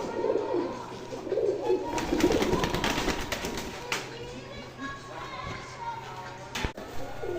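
Pigeons kept by a pigeon fancier coo softly at night, low murmuring calls from close by, with some handling noise and people talking in the background.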